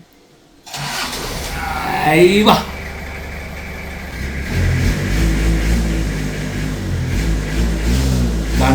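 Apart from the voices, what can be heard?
vehicle engine starting and revving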